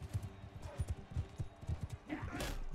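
Horse hooves in the video game Bannerlord, a steady rhythmic clip-clop of several galloping steps, faint in the mix, ending with a brief whinny-like burst.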